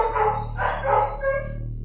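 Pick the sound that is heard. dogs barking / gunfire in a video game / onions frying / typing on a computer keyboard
dogs barking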